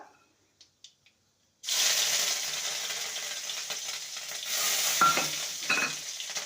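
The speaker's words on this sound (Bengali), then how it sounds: "আদাটাকে ভালো করে ভেজে নেব" Ginger paste hits a hot pan with tempered spices and erupts into loud, steady sizzling and spattering after a few faint clicks, swelling briefly midway while a spatula stirs it for a bitter gourd dish.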